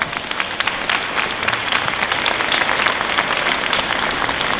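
Loud, dense applause fills a commencement ceremony honouring A. Philip Randolph, with many hands clapping steadily and evenly throughout and no speech over it.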